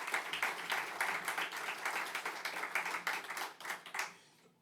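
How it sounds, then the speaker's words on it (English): At an award event for 40 to None Day, an audience gives a steady round of applause for Thomas and Hedrick Martin. Dense, close clapping runs for about four seconds and then fades out quickly. "Let's give Thomas a round of applause and Hedrick Martin."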